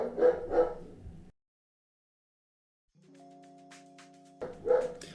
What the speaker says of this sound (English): My dog's barking at nothing outside.